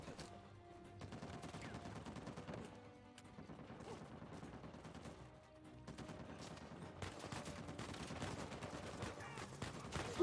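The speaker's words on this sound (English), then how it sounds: "Who's shooting me?" Steady distant gunfire in Uncharted 4: A Thief's End, including a turret, with scattered shots and impacts running throughout at a low, even level over game ambience.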